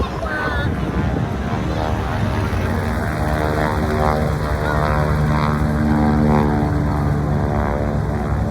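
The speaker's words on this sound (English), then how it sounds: "We're looking at airplanes" Propeller airplane engines at the 2024 JBSA-Randolph airshow: a loud, continuous droning roar that holds steady throughout, with no talking.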